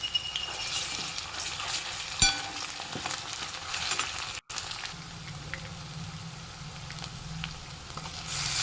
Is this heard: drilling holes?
no